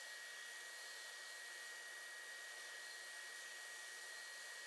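A Wen 4-inch by 36-inch benchtop belt and disc sander running with 80-grit abrasive and a dust collection vacuum attached, giving a steady, even high-pitched whir that holds unbroken throughout at a fairly quiet level.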